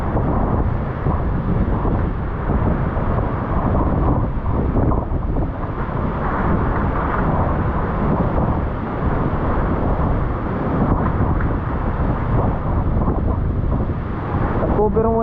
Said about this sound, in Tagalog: Biro ang lakas pa ng hangin ah.